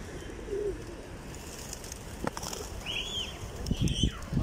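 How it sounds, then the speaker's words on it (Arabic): Pigeons coo softly a few times in an open outdoor spot in Meknes, Morocco, amid street background noise and faint nearby voices. "الولد الصغير يلعب مع الحمام."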